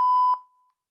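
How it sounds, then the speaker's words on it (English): A single electronic workout timer beep rings out clearly at one steady pitch, then fades quickly into silence, with no voices. "Timer's going to start."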